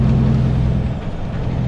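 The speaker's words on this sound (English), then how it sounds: "I'm going to slow that Volvo down." A Volvo truck slowing down, its engine giving a steady, heavy low rumble close by throughout, with no distinct air-brake hiss standing out.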